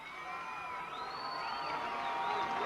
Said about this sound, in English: And his crowd gives him a hand.